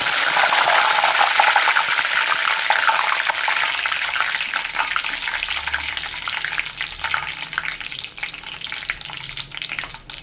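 Curry leaves drop into hot oil left from frying spinach pakodi and sizzle loudly and close, a dense crackling hiss that gradually eases as they crisp, with light stirring scrapes underneath.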